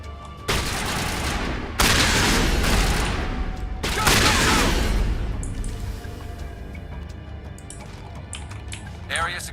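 Gunfire from a shotgun in a video game: a few loud, broad blasts roughly two seconds apart, each trailing off into a long rumbling decay, with a voice speaking over the quieter end.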